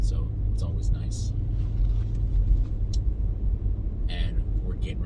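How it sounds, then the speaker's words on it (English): A deep, throaty V8 engine rumble runs steadily throughout, close and continuous, with faint higher noises flickering above the low drone. "The throaty rumble of the V8"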